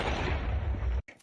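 A container blows up in Minecraft, a loud booming blast that roars for about a second and then cuts off abruptly.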